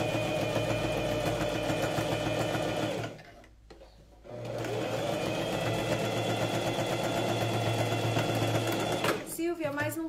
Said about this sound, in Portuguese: sigo costurando aqui a manga